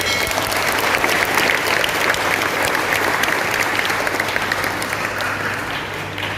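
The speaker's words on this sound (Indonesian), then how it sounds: "kita beri tepuk tangan untuk Darussalam Pendidikan" A seminar audience at a motivational talk by a psychologist claps steadily and loudly in a dense, sustained wash of hands that fades only slightly toward the end.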